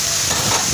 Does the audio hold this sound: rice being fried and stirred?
yes